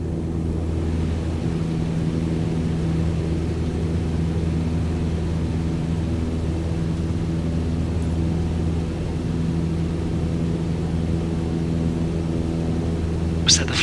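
A light airplane engine at full power during a go-around in Microsoft Flight Simulator, a steady loud droning hum that holds constant throughout with no talk.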